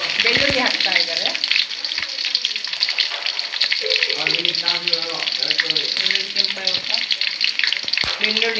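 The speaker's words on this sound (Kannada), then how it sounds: "ಇವಾಗ ಪಟ್ ಪಟ್ ಪಟ ಅಂತ ಸೌಂಡ್ ಬರ್ತಾ ಇದೆ ನೋಡಿ." Mustard seeds splutter in hot oil with a constant loud sizzle and scattered pops, while a voice talks over the frying through much of it.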